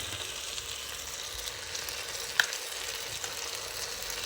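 Ginger garlic paste sizzles steadily in hot oil while chicken is being cooked for a pressure-cooker dish, a continuous close frying hiss with one brief sharp clink partway through.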